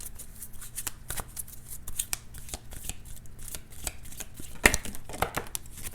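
A deck of oracle cards is shuffled by hand in rapid, uneven riffles and slides, crisp and close, with a steady faint hum underneath and no speech.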